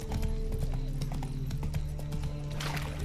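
Geralt's horse Roach clip-clops along at a steady trot in The Witcher 3: Wild Hunt, its hooves sounding as rhythmic close knocks over a low droning game ambience.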